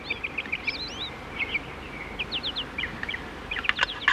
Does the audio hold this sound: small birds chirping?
yes